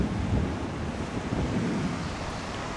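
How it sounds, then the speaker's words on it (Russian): Pacific Ocean surf along the San Francisco coast, a steady broadband rush of breaking waves mixed with wind buffeting the microphone, loud and continuous with no voices. "И вот такой шикарнейший вид на мощь океана,"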